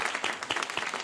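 Steady applause from a theater crowd at a live interview event, a dense wash of many hands clapping together without pause, fairly loud and close.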